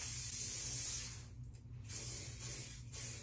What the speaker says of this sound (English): Now let's get a little hairspray action in there.